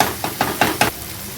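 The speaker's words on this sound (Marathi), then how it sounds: "तेलामध्ये चांगले परतून झालेले आहे।" Vegetables sautéing in oil in a pan for a veg crispy roll, a close sizzle punctuated by four or five quick stirring scrapes in rapid rhythm.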